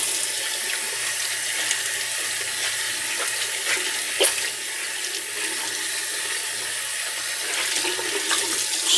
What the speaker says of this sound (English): All right, hot water rinse.